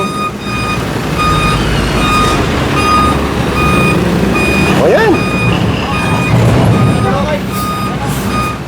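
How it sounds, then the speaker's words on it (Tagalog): A heavy truck backing into a garage beside a city street gives off steady, evenly spaced reversing beeps over a loud diesel rumble, with traffic noise and people talking now and then. "Pinapasok na sa loob yung isang truck."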